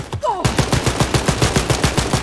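Rapid automatic gunfire in the shooter Wolfenstein: Youngblood, a steady burst of close, loud shots at an even fast rhythm following a short laser-like zap at the start.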